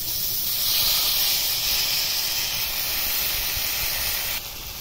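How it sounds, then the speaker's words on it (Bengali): Red lentils tipped into hot spices in a pan, a loud steady sizzle and hiss that holds for several seconds before dropping slightly at the end. "মসুর ডালটা ঢেলে দেব।"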